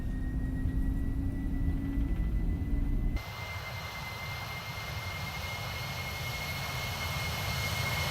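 Jet engines of a FlightFactor 767 spooling to takeoff thrust in X-Plane 12, a loud steady roar with whining tones that shifts abruptly partway through into a broader rushing drone, no speech.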